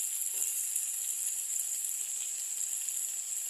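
Potato and pumpkin sautéing in a pan, a steady soft hiss of frying that runs unbroken and fairly quiet, with no voices over it.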